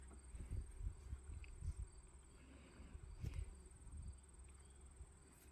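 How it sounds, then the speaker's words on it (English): Honey bees at an open hive that is being worked, with frames filling with winter food; a faint, steady low hum with soft knocks and handling bumps, no talking. "That's a lot of bees."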